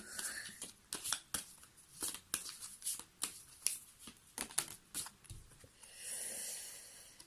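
Tarot cards are shuffled and drawn nearby in quick repeated riffles and flicks, a busy rhythmic series of crisp paper snaps that gives way to a softer hiss at the end, with no speech.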